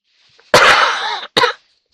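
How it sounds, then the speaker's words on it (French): A woman gives a close, loud cough in a quiet indoor room, one long harsh burst followed by a short second cough, with silence before and after. "Voilà qui me fait tousser."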